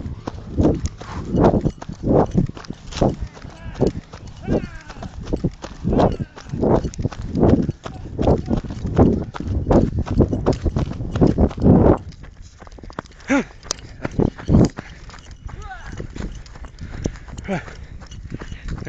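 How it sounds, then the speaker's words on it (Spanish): Horses walk nearby, their hooves clip-clopping in a steady, loud rhythm that thins out after a while, with a voice speaking over the sound. "Los caballos, güey."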